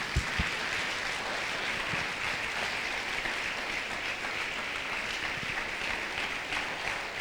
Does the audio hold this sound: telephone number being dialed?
no